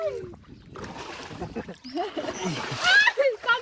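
Water splashes and sloshes in bursts amid excited voices talking and calling out nearby.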